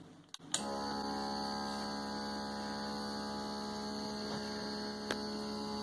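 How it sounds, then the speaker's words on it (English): Small nebulizer compressor starting after a click and then running steadily, a constant electric hum with a tonal drone, fairly close and alone, with a faint tap near the end. "We're just about to start this super silent little compressor."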